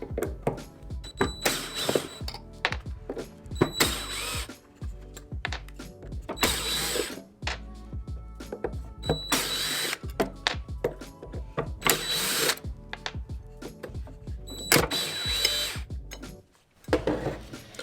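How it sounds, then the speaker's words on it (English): Screws are backed out of the blade cover on a Porter Cable planer with a hand tool, giving repeated clicking, ratcheting bursts in a steady stop-start rhythm, close and fairly loud, with short pauses between turns. "All right, so just start unscrewing those."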